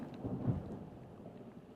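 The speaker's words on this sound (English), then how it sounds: "Got some lightning and thunder going on." Thunder rolls during a rainstorm as a low, faint, distant rumble, with soft rain noise underneath and no voices.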